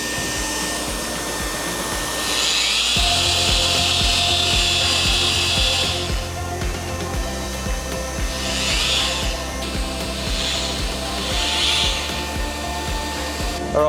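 Plastic welding on an LDPE fertiliser tank: a hot air gun hisses loudly and steadily while a rod or tool rubs against the plastic in repeated, rhythmic scraping strokes close by.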